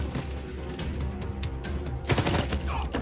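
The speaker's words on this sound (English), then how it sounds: "Should probably stop shooting randomly." Gunfire from a Punisher TV episode plays as rapid bursts of shots and clattering fusillade over a busy action soundtrack, loudest in a dense volley near the end.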